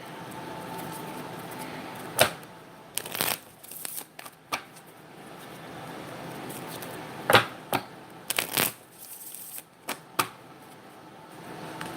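A deck of Soul's Journey lesson cards is shuffled by hand in several bursts, giving sharp riffling flutters and soft slaps spaced between quieter pauses, close and fairly faint.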